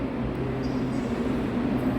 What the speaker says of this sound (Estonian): seal üks tavaline rong hakkab liikuma